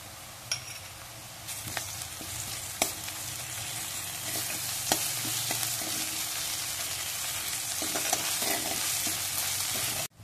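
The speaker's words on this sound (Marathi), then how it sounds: "आता आपण इथं अद्रक लसूणची पेस्ट घालून घेणार आहोत।" Ginger-garlic paste fries with cooked onion in a pan, a steady close sizzle with scattered spoon clicks and scrapes against the metal as it is stirred, with no voices.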